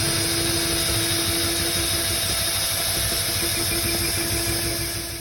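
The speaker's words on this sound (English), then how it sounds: "so I'm going to drill here." A power drill bores a hole for seven-pin trailer wiring, its motor whining steadily and close for several seconds before winding down at the end.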